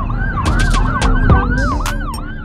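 An ambulance siren wails in city traffic, a loud, close, continuously rising and falling tone that dominates throughout, with road noise and brief horn-like bursts underneath.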